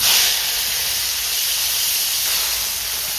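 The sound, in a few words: tomatoes added to hot oil with spices, sizzling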